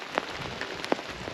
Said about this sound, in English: The rain is coming this direction